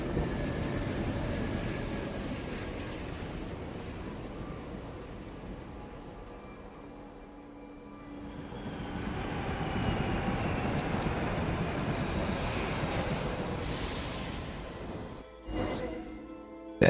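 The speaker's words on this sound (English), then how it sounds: "Train in the sky." A summoned train sweeps through the sky in Genshin Impact, a steady broadband rumble that swells and fades across the scene, ending with a sharp clatter of sound effects near the close.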